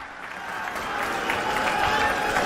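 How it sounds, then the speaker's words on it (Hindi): Crowd applause from supporters at a political rally at Jantar Mantar, a broad wash of clapping that builds gradually in loudness. Some crowd voices mix in underneath. "जोरदार तालियों से स्वागत करिए मनीष जी का।"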